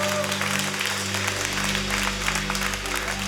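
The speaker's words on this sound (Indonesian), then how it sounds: "Mari berikan sorak-sorai yang paling meriah untuk Tuhan." A worship congregation cheers and applauds over sustained music at an ICC church service, with broad clapping and crowd noise carrying steadily throughout.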